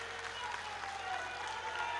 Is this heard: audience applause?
yes